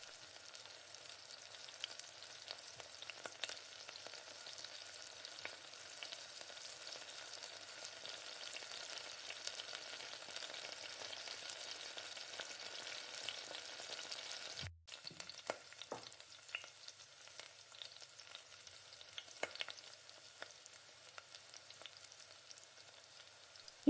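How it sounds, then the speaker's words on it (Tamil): Chickpea sundal sizzles softly in hot oil in a pan, with a continuous gentle frying crackle, scattered stirring scrapes and one brief clunk partway through. "நல்லா எண்ணெயில் வதங்கினாதான் அந்த சுண்டல் நல்லாயிருக்கும்."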